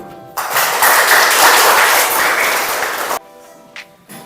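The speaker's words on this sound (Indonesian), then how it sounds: "tepuk tangan dulu" Classroom clapping from schoolchildren after finishing a Pancasila lesson, a burst of brisk applause lasting about three seconds that stops abruptly, followed by quiet room tone and a faint thump.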